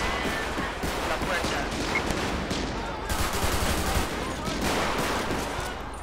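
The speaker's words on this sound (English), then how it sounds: "These guys are shooting from up there." Rapid, dense gunfire in a police shootout from the video game GTA 5, machine-gun bursts rattling continuously and loudly throughout.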